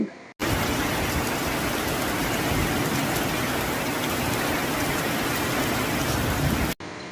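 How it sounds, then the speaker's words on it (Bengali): Heavy pouring rain roars in a dense, steady wash, loud and close throughout, cutting in abruptly at the start and stopping just as abruptly near the end. "বৃষ্টি তো আর ধরবে না মনে হচ্ছে গো।"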